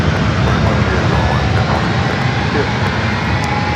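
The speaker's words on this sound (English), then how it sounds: "All eyes on the 757 and number 3 now for takeoff." A 24-year-old Boeing 757-200 jet airliner roars loud and close during its takeoff roll, a dense, steady engine rumble that fills the whole stretch without letting up.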